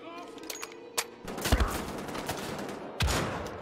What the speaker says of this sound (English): I'm going to try the Bombenschuss. I like this gun.